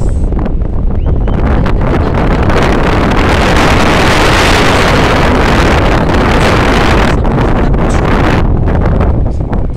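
Strong afternoon wind roars loudly and steadily over the microphone, buffeting with constant gusts near a city high-rise district and briefly easing toward the end.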